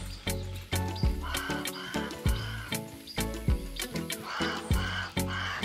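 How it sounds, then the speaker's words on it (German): A raven in the survival video game Grounded caws loudly and repeatedly in harsh, evenly spaced calls, with game music or tones layered underneath and no speech. "Aber der Rabe, der macht voll den Krach"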